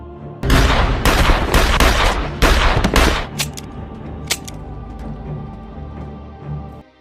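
A rapid burst of heavy gunfire in a film scene, several loud cracking shots in quick succession followed by scattered fainter shots and a lingering low rumble.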